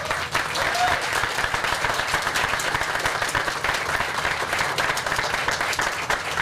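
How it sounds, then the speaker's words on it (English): An audience at the Boston Main Streets awards ceremony applauds steadily, a dense, even wash of many hands clapping throughout with a little voice in the background. "clap for Mark"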